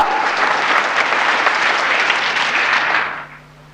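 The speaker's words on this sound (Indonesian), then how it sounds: "Nah sekarang boleh tepuk tangan yang meriah bagi dia." A church congregation breaks into loud, sustained applause with dense overlapping claps for about three seconds, then the clapping fades quickly away.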